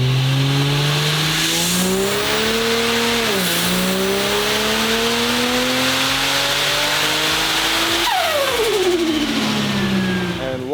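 An AWD Ford Barra-engined car roars on a dyno, its engine climbing through repeated revving pulls with gear-change dips, then dropping sharply as the throttle closes, loud and close with no talk.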